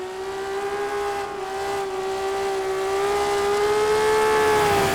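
A race car in a sim racing game runs flat out down the front straight at Silverstone. Its engine holds a steady, loud whine that climbs slightly in pitch, with no talking.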